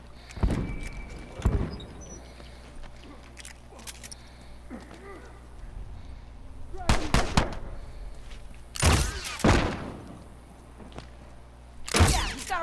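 Rifle fire in an online multiplayer match of The Last of Us Remastered comes as a few sharp, spaced bursts of shots over a low steady hum, with talk between the shots.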